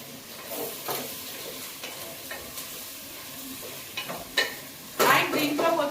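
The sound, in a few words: frying and stirring onions, tomatoes and potatoes for biryani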